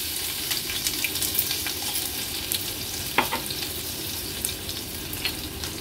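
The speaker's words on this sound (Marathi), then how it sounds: "आता आपण ह्याच्यामध्ये 1 चमचा भरून आलं लसूण क्रश ऍड करूया।" Ginger garlic paste frying in about three tablespoons of hot oil in a pan, a steady continuous sizzle with light stirring scrapes and one sharper clink near the middle, no voices.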